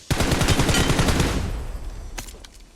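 Rapid machine-gun fire in a video game, a dense rattling burst of shots for about a second and a half that trails off into echoing decay, followed by a couple of faint isolated pops.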